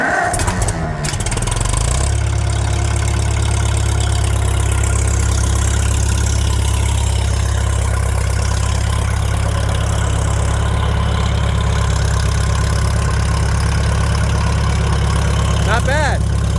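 An old engine started on choke catches after a brief rough crank, then settles into a loud, steady, deep idle that runs on unchanged.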